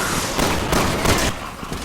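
Fast, dense pistol fire from Leon dual-wielding handguns in the game Resident Evil 6, loud and continuous with overlapping sharp shots and no talking.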